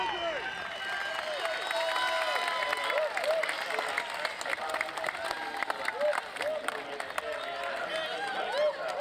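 Large crowd at the 2022 Bennetts British Superbike Championship final round applauding and cheering steadily for the champion, dense and continuous clapping with scattered whoops, under an announcer's voice.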